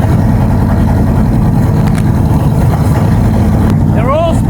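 Engine idling steadily with the valve cover off and pushrods spinning, a loud continuous mechanical drone with dense low rumble that stays constant throughout, with faint brief whistling near the end.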